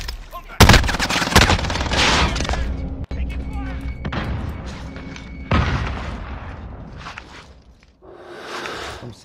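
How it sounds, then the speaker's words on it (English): Sniper fire in Call of Duty: Warzone: a few sharp, loud shots crack out close by amid scattered impacts and movement noise, with a player talking over parts of it. "Ooh, I just got sniped at."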